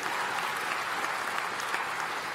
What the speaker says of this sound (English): can you clap your hands and let me hear you?